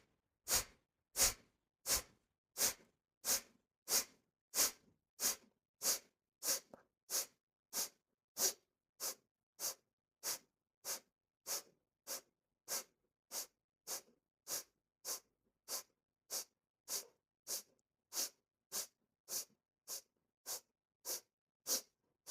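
Breath of Fire breathwork: a long, even run of about thirty-five sharp, forceful nasal exhales, roughly one every two-thirds of a second, close and crisp, with silence between puffs.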